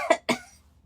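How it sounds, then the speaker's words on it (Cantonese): Two short, close coughs in quick succession from a narrator acting them out in a Cantonese children's story about caring and sharing, then quiet. "仲一直喺度咳添。"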